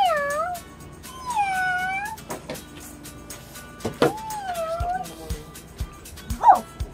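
A human voice imitates a cat's meow several times, rising and falling wavering calls spaced across the clip, close and fairly loud, alongside soft handling noises from pony pet spa toys.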